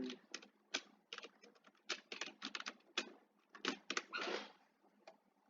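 Rapid, irregular clicking of keys on a computer keyboard, close and soft, with short bursts of typing and brief gaps.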